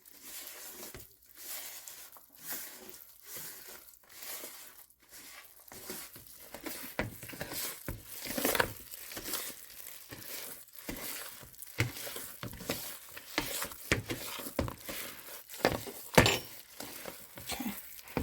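A brownie batter of cocoa, cashews and eggs gets mixed by hand in a bowl, giving soft, wet, irregular squishing and scraping strokes, close and quiet, with no talking.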